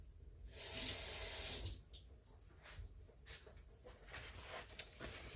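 A metal spoon rinsed under a running kitchen tap while cooking meat sauce, a loud steady gush of water for about a second, then quieter trickling and small clinks.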